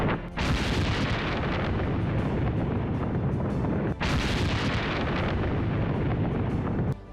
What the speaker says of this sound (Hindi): एयर स्ट्राइक के बाद इस हथियार डिपो में एक के बाद एक कई धमाके होने लगे।